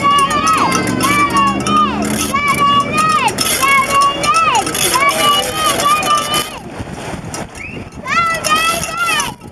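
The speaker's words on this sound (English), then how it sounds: "Good cheering, guys." Spectators cheer loudly at the 2013 YMCA Masters Nationals swim meet during a 100-yard breaststroke race, with overlapping high shouts and calls that carry on almost without pause, fading briefly before swelling again.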